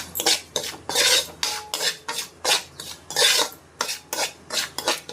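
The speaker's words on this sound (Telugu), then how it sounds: "ఇప్పుడు ఈ రవ్వ అనేది మనం ఫ్రై చేసేసుకుందాం." Semolina stirred dry in a pan for upma, a metal spoon scraping and clinking against the pan in quick repeated strokes, close and fairly loud, with no talking.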